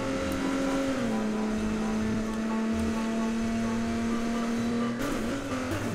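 A car drives in the video game Watch Dogs Legion, giving a steady engine drone with a sustained tone that dips slightly around a gear change and is loud and continuous, with no talk.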